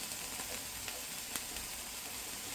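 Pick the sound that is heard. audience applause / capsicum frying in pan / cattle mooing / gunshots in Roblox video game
capsicum frying in pan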